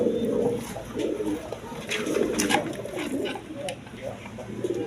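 Coloured Raj Golla pigeons coo in soft, rolling overlapping phrases, with faint voices mixed in among the birds and a few short bright clicks.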